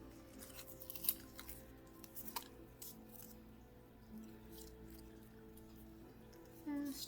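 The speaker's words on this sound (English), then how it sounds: "I'll trim that off." Paper trimmed off a card with scissors during a black ice card technique, a few quiet snips and rustles up close, faint and intermittent.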